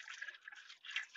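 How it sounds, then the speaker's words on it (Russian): Crimson antifreeze coolant trickles into the expansion tank of a VW Golf 2, a faint, soft liquid splashing and dribbling that runs on for about a second. "сейчас я его заливаю. Заодно и проверим, сколько зайдет антифриза вот такого цвета."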